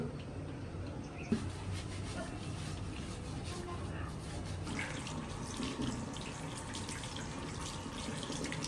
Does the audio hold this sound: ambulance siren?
no